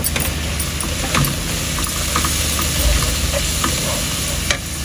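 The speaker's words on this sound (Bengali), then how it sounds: "তারপরে মশলাটা একটু কষলে" Ginger, garlic and ground spices (salt, coriander, cumin, chili powder) stir-fried in a hot pan for pigeon curry, with a steady sizzle and scraping stir strokes throughout, fairly close and continuous.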